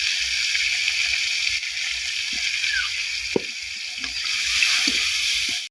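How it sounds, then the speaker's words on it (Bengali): Sliced green chilies fry in soybean oil with salt and turmeric in a wok, a soft steady sizzle with a few faint pops and clinks of utensils nearby. "আমি কিছুক্ষণ মরিচ ভেজে নিয়েছি"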